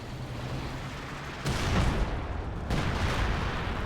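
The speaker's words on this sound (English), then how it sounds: "And there's yet again the next left barrage out." Artillery barrage in a real-time strategy match: a steady rumbling bed of gunfire with two heavy booming volleys landing, loud and continuous, no talk.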